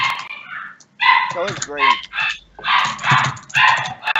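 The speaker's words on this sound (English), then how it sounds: "Whose dogs are No! those?" Dogs bark in short, sharp bursts, loud and close, mixed in with overlapping excited voices talking during a game.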